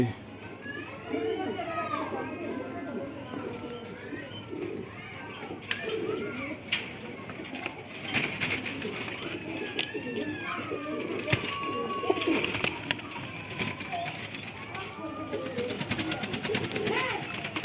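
Pakistani Giribaz pigeons coo and call at a bird market, soft repeated burbling coos mixed with flapping and rustling, under steady people talking nearby.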